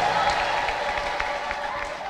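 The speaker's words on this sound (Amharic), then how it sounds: "እልልታ ጩኸት ጭብጨባ አንድ ጊዜ" A church congregation applauds and shouts together, with rhythmic clapping over a broad crowd roar that keeps going through the short burst.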